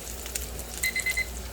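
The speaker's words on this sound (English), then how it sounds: "And there's the timer for the ribs to check on" A kitchen timer for ribs in a homestead kitchen beeps four times in quick even succession, fairly faint over a low background hum and light sizzling.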